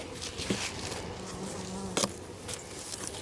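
Honeybees buzz steadily in a dense, close swarm around their hive during a post-winter-storm inspection, a constant droning hum with a few louder passes near the listener.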